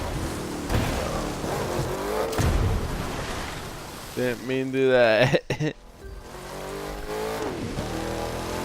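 A car engine in The Crew 2 revs up hard, its pitch climbing and falling in a loud sweep mid-clip amid road and tire noise, with someone talking over parts of it.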